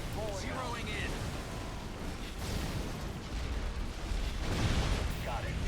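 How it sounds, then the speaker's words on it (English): Grenade blast in the real-time strategy game Halo Wars, a loud rumbling boom within dense battle noise, with a voice speaking over the action. "Grenade out."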